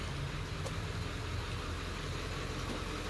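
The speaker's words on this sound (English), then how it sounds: "I hope y'all will be able to hear me over my loud truck running" Pickup truck engine idling nearby outdoors in a garden, a steady loud low rumble with broadband noise that holds constant throughout without any talking.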